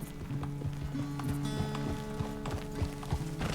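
Horse hooves clip-clop in a steady rhythm in Red Dead Redemption 2, paired with a mid-level mechanical in-game beat over a continuous background bed.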